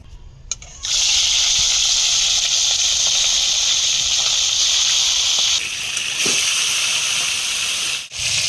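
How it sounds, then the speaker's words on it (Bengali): Small pond-caught fish dropped into hot oil in a kadai, a loud sustained hissing sizzle that starts abruptly and continues steadily, shifting slightly partway through, with a few faint clinks. "এবার আমি মাছগুলোকে ভেজে নেব।"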